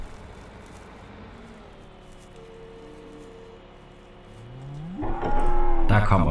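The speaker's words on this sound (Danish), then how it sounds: "Der kommer flere køer." Cows moo in Farming Simulator 2017, with long low drawn-out lowing rising in pitch and growing louder toward the end, over faint background hum.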